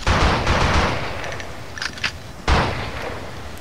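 Pistol fire in the video game Blood and Bacon: a loud opening burst, quieter rattling in the middle, then another sharp, close shot near the end.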